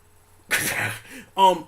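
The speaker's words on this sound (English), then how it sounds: "It was a sneeze." A single abrupt sneeze bursts out close to the mic after a moment of quiet, followed by a brief voiced exhale or grunt.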